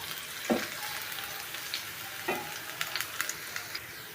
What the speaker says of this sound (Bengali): পেঁয়াজগুলো ভেজে নিচ্ছি